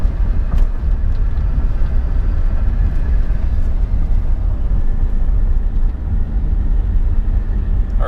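Inside the cab of a five-speed extended-cab Chevrolet Silverado with an idle fault, the engine gives a loud, constant low rumble with road noise, and its revs sag when the truck is shifted into neutral.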